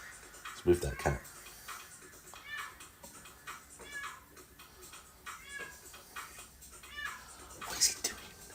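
A cat meows several times, close by and fairly clear, while someone talks over and between the meows.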